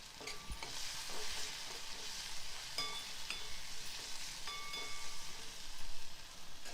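Tomato masala frying in a pan for chutney, a steady hiss of sizzling with scattered scraping stirs and clicks of a utensil, continuous and fairly close, no speech.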